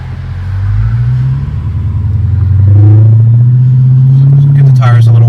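A Dodge Challenger Hellcat in track mode rumbles deep and loud, its engine rising as it revs and pulls forward, with someone talking over it.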